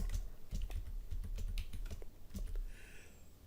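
Computer keyboard typing a formula into an Excel spreadsheet: a quick, irregular run of close, light key clicks and taps lasting a few seconds, with no talking.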